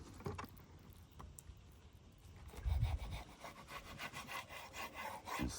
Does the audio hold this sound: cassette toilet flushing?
no